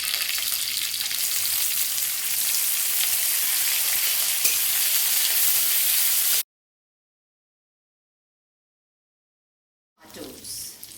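Urad dal and onions frying in a pan, a loud dense hiss of sizzling oil for about six seconds, then silence before the sizzle resumes briefly.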